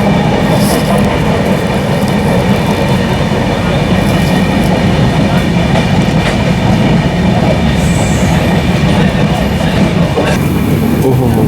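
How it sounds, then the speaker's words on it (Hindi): A local train rumbles steadily past at close range in India, a continuous loud roar of rolling wheels with faint rail clatter and a brief high squeal. "और ये लोकल ट्रेन।"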